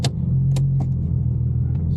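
A Nissan R34 Skyline's engine idling steadily after a full reset, a continuous low rumble close by with a few brief clicks on top, no voices.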